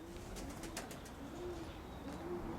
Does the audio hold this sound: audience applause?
no